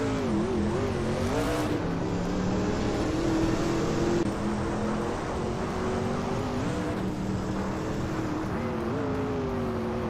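Race car engines in a racing video game, a continuous, loud drone of several engines whose pitch rises and falls as the cars shift and accelerate, with speech faintly mixed in.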